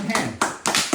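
Hands clap in a steady rhythm during a seated yoga exercise session, three sharp claps in under a second, close and fairly loud.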